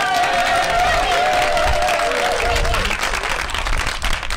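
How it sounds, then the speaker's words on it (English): A theater audience gives a sustained, loud round of applause that fills the room, dense clapping with some cheering and a voice over it early on. "you should turn to the person behind you and give them a huge round of applause"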